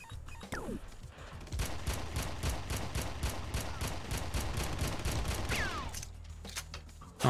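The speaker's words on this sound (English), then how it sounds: "Shoot him with the gun." Rapid automatic gunfire in the game Kava: A Red Faction Prequel, a steady rattling burst of evenly spaced shots lasting several seconds, with whooshing sweeps at the start and end.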